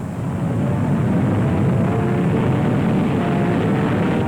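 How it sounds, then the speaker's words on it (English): A B-47 Stratojet swept-wing jet bomber roars in flight, a broad, loud and steady rushing jet noise that builds slightly and then holds. "And here's the hot new jet bomber, the B-47 Stratojet, with swept-back wings and speed near the sound barrier."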